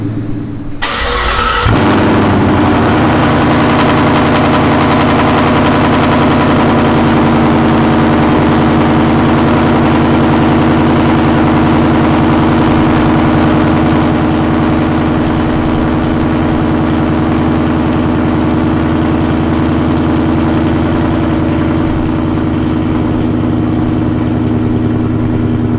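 Coyote V8 in a 2016 Ford Mustang GT with a T56 Magnum XL swap fires up and settles into a loud, deep, steady idle, rumbling close and alone for the rest of the stretch.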